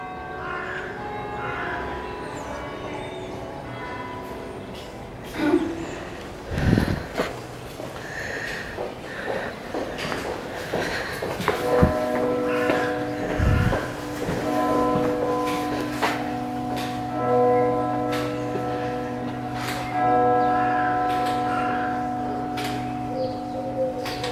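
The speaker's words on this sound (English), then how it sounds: "There's the Canterbury Cathedral chimes." Canterbury Cathedral bells ring out in a steady series of resonant strikes, each leaving a long sustained hum that overlaps the next, heard outdoors in the cloisters with faint ambient noise and a few sharp nearby knocks.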